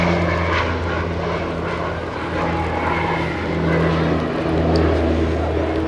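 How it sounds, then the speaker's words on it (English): A North American OV-10B Bronco twin-turboprop flies a display at Biggin Hill Airshow, its engines droning steadily at mid distance with rising and falling swells, while an announcer talks over the sound. "The aircraft will be making a fairly tight approach to land. This is in fact the OV-10 Bravo B"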